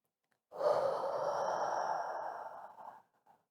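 A single long, deep breath during a yoga pose, a close, soft airy exhale lasting about two and a half seconds and tapering off, with no talk.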